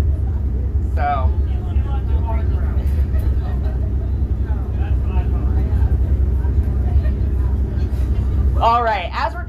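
Steady low rumble of a car driving through Kennedy Space Center, a constant engine and road drone filling the interior, with voices talking briefly over it near the start and again at the end.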